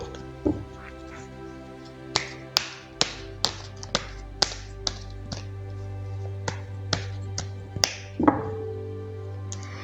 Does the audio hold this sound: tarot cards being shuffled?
yes